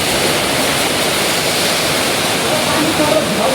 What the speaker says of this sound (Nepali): कस्तो हावा चलेर यार